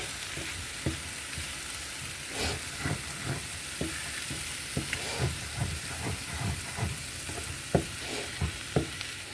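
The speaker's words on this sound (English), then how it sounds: "we're going to add 1 tablespoon of flour. And you're going to want to stir this constantly." A tablespoon of flour is stirred constantly in a hot pan while making a creamy spinach mushroom pork chop sauce. Rhythmic scraping strokes repeat over a continuous close sizzle and hiss, with no talking.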